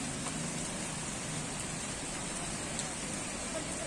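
Rain falls steadily on a football field during a match between PSP FC and Perseta FC, a dense, even hiss with no breaks that stays moderately faint throughout.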